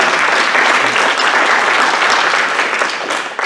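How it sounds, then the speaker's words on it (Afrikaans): A church congregation gives a short burst of loud, dense hand clapping that holds steady and then tapers off. "kan ons die Here net 'n hande klap gee"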